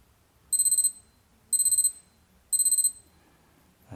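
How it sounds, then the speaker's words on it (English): Alarm tone on a Citizen watch: three identical bursts of rapid, high-pitched electronic beeping, each a quick chirping trill, spaced about a second apart, close and clear against near silence. "You can preview the alarm tone, which is different for"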